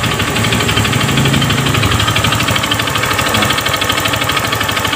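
Honda Beat FI scooter engine idling with a worn connecting rod after a new piston, a steady loud mechanical rattle and rapid knocking over a running hum, close up and continuous.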